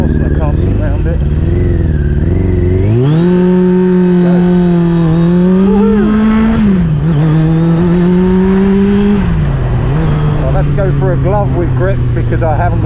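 A carbureted Kawasaki ZX6-R motorcycle on a test ride, engine revving up and down through gears with rising and falling pitch, loud and continuous with wind noise.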